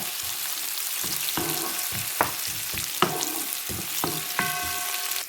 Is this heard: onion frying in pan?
yes